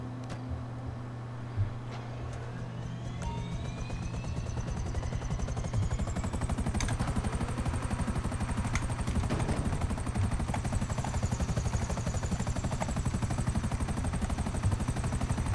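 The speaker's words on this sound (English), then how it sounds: "the helicopter, this is a fast helicopter" A fast helicopter in GTA 5 Online flies with a steady, droning rotor and engine whir that holds throughout, with faint sharp game effects scattered over it and no voices.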